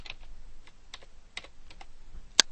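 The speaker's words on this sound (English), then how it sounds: "we can then type the first couple letters of the employee's last name" Typing on a computer keyboard: a quiet, sparse series of soft key taps at an irregular pace, ending with one sharper, louder keystroke, no voices.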